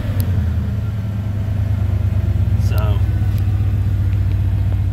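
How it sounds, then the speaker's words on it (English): An old farm truck engine idles with a deep, loud, pulsing rumble and a raspy exhaust note from a holed muffler, steady throughout, with a person speaking briefly over it. "we got a hole in the muffler. Motor sounds really good."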